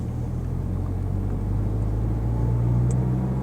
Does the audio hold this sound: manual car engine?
yes